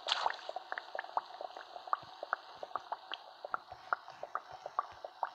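Water bubbling on a cooking pot in the survival game Raft, a steady run of small pops and gurgles at an even rhythm, close and fairly quiet, with no talk over it.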